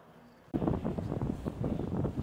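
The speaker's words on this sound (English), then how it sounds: "so a little windy here" Gusty wind buffets the microphone outdoors in Savannah, Georgia, a sudden loud rumble that starts after a quiet half second and keeps booming unevenly to the end.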